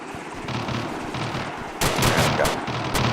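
Airsoft guns firing during a team tactics workshop, a rapid clatter of shots that builds into denser bursts in the second half.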